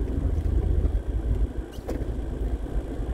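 A car travels along the road on the drive home from work, giving a steady low engine and road rumble close and continuous throughout, with no talking.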